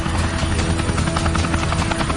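A military helicopter flies overhead during a pirate-skiff pursuit at sea, its rotor chop a loud, steady, dense thrum filling the whole span with no voices.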